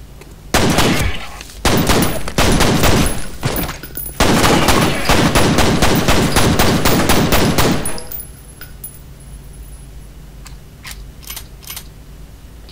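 Pistol fire in the shooter game F.E.A.R. comes as rapid, loud volleys of shots for about eight seconds, then drops to a few isolated single shots over quiet background; no speech.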